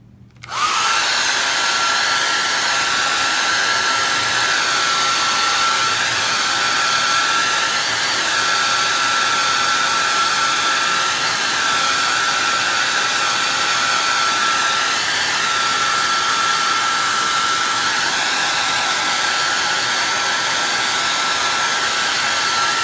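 A hair dryer blows steadily on a piece of artwork being dried, a loud, constant whirring hiss that starts abruptly and holds unchanged for about twenty seconds with no talking.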